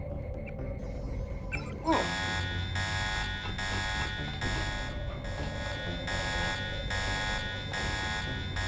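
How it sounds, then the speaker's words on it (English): Alarm in Deus Ex sounding as a loud, pulsing electronic buzzer tone that starts abruptly and repeats in regular on-off bursts over a low hum, with faint background game sounds. "It's fine if the alarm activates"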